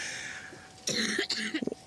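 A woman coughs several times in quick succession during a sled dog race broadcast, fairly close and loud, with a short rough burst at the end.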